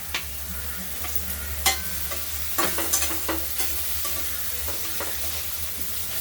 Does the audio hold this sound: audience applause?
no